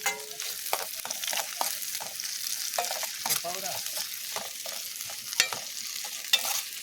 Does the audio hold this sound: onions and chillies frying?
yes